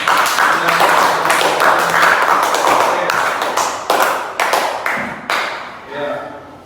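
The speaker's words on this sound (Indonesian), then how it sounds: "Tepuk tangan untuk kalian semua" Classroom of students clapping for each other, a dense burst of many hands that gradually thins into scattered individual claps and fades toward the end.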